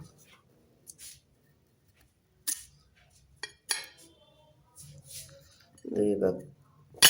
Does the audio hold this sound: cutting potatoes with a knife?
yes